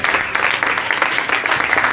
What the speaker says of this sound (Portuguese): Aplauda o Senhor novamente.